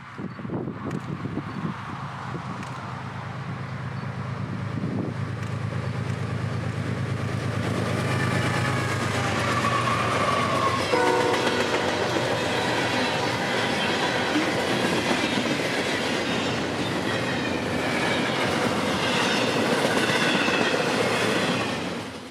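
A long 3,500-foot freight train rumbles past in Central Florida, its low roar building and then holding steady, with clattering wheels and a faint metallic squeal, no voices.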